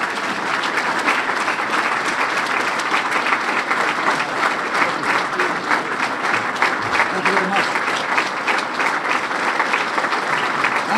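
Sustained audience applause welcoming General George Casey Jr., former Army chief of staff, at the dedication of an amphitheater named for Major General George W. Casey; steady dense clapping from a large crowd, loud and continuous throughout.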